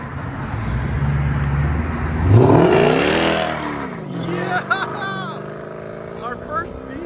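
A 2007 Mercedes S550 with a 5.5L V8, straight pipes and an X-pipe revs once, loud and close, its note climbing sharply. The engine then settles into a rough, burbling idle with small blips.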